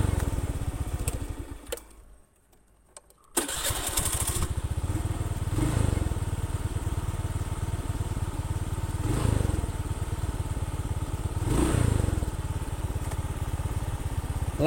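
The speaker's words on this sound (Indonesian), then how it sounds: "Jangan sampai terlalu kecil langsamnya itu" A Honda Scoopy scooter that sputters and idles poorly chugs at idle close by, cuts out briefly, then restarts and settles into a steady idle with periodic light rev swells and no talking.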